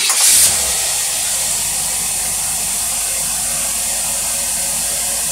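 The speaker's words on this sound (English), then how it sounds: "You have to pardon the fans" Electric fans run in a hot carburetor shop, giving a steady, broad whooshing hiss that holds evenly throughout after a brief louder burst at the start.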